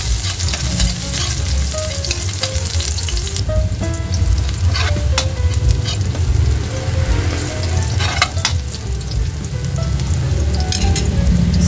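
Garlic dropped into hot cooking oil for pork spare ribs caldereta, a loud, dense crackling sizzle that runs throughout with occasional utensil clinks, up close over a low background hum, no voices.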